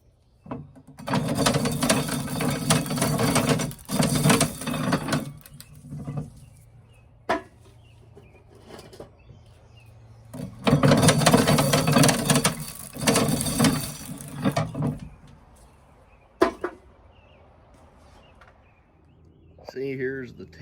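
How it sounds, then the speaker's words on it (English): Cranking a Root & Heath corn sheller, its metal teeth and gears grinding in long, loud rattling bursts, pausing between turns, with brief clicks. "here's the teeth down in it that turn as you turn the crank"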